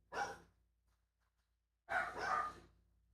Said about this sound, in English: Why is my dog still barking?